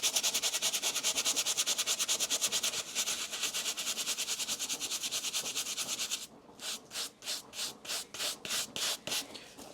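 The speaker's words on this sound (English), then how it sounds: "we're going to drop a few drops directly on there and then scrub it again." A brush scrubbing a Nike Panda Dunk sneaker with cleaner, fast even strokes forming a steady rhythmic scratchy hiss, then slower separated strokes near the end, close and clear.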